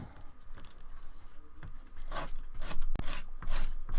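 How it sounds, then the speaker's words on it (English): Close, rough rasping strokes of 100 grit sandpaper on a Warhammer 40K T'au model part, irregular scrubbing bursts that grow louder and faster toward the end, with no talk. "get some sandpaper out here and see if we can't clean this up a bit"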